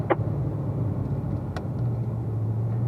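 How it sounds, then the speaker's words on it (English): A race car brakes and drops from fifth to fourth gear, its steady engine drone running close and loud with a brief blip as the gear changes. "Left paddle down to fourth gear under braking"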